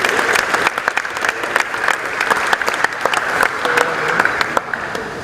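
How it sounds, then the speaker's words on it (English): Audience applause at the opening ceremony of a national GIS day exposition: dense, loud clapping from a sizeable crowd fills the room continuously, with faint crowd noise underneath. "you should give Professor Weber and his team a round of applause"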